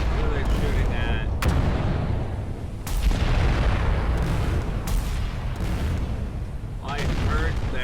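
Artillery shells landing in a Battleship Command naval battle game, a dense rumbling barrage of booms with several sharp impacts over continuous low roar, voices talking underneath.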